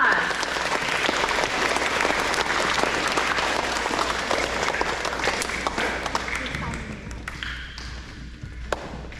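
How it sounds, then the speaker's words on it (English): Sustained audience applause at an elementary school awards assembly, loud and dense at first, then thinning toward the end with a few scattered claps. "Let's give them all another round of applause."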